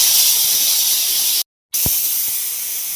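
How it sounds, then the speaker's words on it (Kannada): A pressure cooker holding bisi bele bath vents steam in a loud, close, continuous hiss that cuts off briefly and then resumes at the same strength. "ಕುಕ್ಕರ್ ವಿಸಿಲ್ ಬಂದಮೇಲೆ ಗ್ಯಾಸ್ ಆಫ್ ಮಾಡಿಬಿಟ್ಟು"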